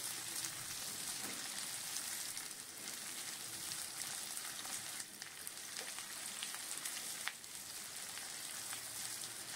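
Four medium sliced onions sizzle steadily in hot oil for a Bihari chicken curry, giving a constant, even hiss with a few faint pops and crackles.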